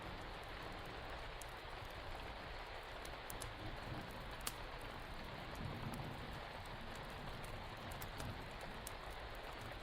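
Steady, faint rainfall hisses evenly and continuously, with occasional sharper drop ticks and no voices.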